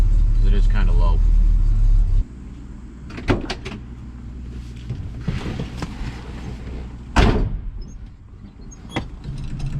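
A 1969 Chevelle with a 396 engine idles low after a tune-up in a tight garage, a loud, deep rumble for about two seconds before it cuts off, followed by door clunks, creaks and some talking.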